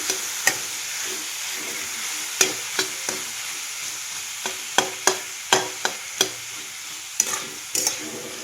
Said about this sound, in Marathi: ह्या तेलामध्ये ह्या मसाल्यांबरोबर किंवा ह्या भाज्यांबरोबर आहे ना असं भाजून घेणार आहे